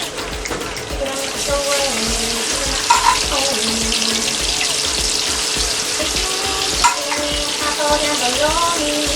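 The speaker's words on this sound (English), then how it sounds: "Half of these are being traditionally fried, the other half will be air fried." Pork chicharrones fry in a pan with a dense, steady sizzle and crackle close up, stirred now and then, with brief bursts of louder popping.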